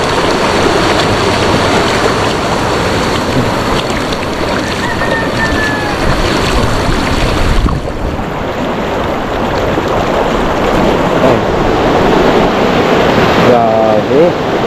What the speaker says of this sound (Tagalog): Grabe yung agos.